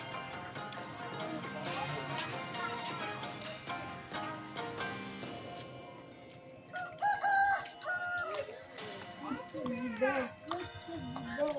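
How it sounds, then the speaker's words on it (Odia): Village chickens cackle and crow close by in a rural tribal village, mixed with background chatter, children's voices and other farmyard noise through a busy, continuous scene. "ଏସବୁ ଦେଶୀ କୁକୁଡ଼ା।"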